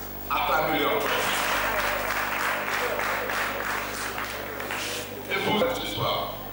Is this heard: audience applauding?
yes